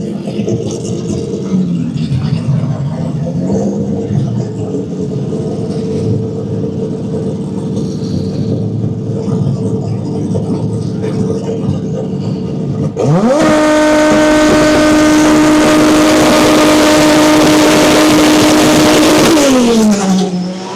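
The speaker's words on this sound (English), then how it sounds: "One of the fastest 6-speed Supra out there." Six-speed Toyota Supra at a drag racing event in Rockingham, North Carolina, idling and blipping amid crowd noise, then launching into a loud, sustained high-revving run with rising engine pitch that holds before backing off.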